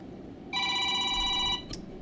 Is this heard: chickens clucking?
no